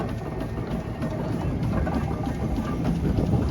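Old stationary engine running at the Masham steam rally, a low, steady chugging rumble with a regular beat, fairly loud and continuous, with a busy outdoor background.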